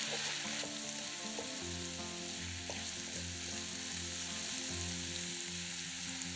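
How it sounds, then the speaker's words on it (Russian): Chopped onion and mushrooms sizzle steadily in vegetable oil in a pan, a continuous close frying hiss with faint stirring clinks and no talking. "Обжариваем лук с грибами примерно 2-3 минуты."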